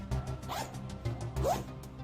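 Zipper on a winter jacket pulled open and closed in quick, close raspy strokes, two or three short zips with brief pauses between them, clear and unaccompanied by talk.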